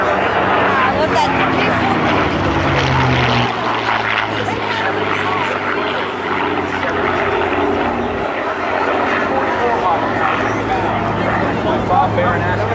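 A WWII warbird with a Packard-built Rolls-Royce Merlin V12 inline piston engine flies at the 2008 Jones Beach airshow, giving a loud, steady engine drone with a deep low hum that holds for the whole stretch.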